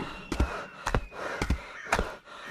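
Four heavy, rhythmic breaths spaced about half a second apart, close and fairly quiet, like someone panting hard with no talking.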